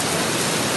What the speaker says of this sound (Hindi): मूसलाधार बारिश से शहरियों ने सुख का सांस लिया।